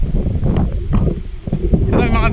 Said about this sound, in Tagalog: Malakas yung hangin dito guys.